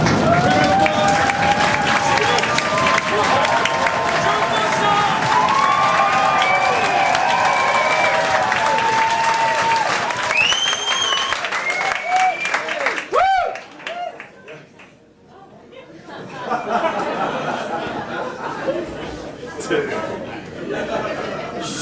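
Comedy club crowd applauding, cheering and stamping feet, a dense roar full of whoops and chatter that cuts off abruptly midway, leaving a quieter murmuring room before the noise builds again.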